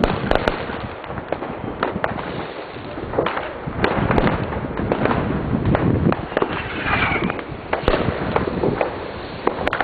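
New Year's fireworks crackle and bang continuously in fog, dense overlapping pops and bursts from several directions, some near and some distant.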